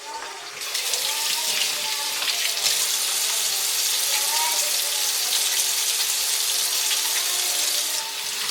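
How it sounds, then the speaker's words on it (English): A kitchen tap runs in a steady, close hiss as someone washes their hands midway through cooking, the flow continuing for several seconds before stopping. "I'm going to wash my hands again."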